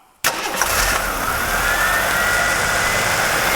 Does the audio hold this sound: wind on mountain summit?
no